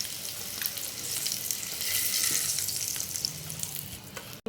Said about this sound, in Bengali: এখন আমি এটাকে একটু ভালো করে ভেজে নিচ্ছি